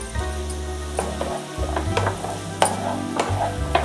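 Ivy gourd curry with freshly grated coconut is stirred in a pan, with scraping spoon strokes and soft clatter over a low sizzle and background hum.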